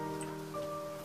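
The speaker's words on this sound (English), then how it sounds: "Oh no, it's raining." Steady, soft rain patter in the video game Scrap Garden, a continuous wash with calm music tones layered over it.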